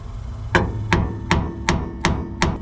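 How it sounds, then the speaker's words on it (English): Six evenly spaced light hammer taps ring out on a rusty, corroded part of a 1950 Dodge Meadowbrook, each a sharp metallic strike over a low steady hum. "a few light taps with the hammer help break up some of that rust and corrosion"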